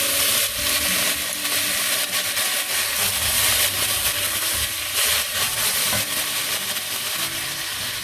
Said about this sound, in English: And now is the time to add my tomatoes.